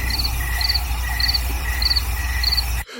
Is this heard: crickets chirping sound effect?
yes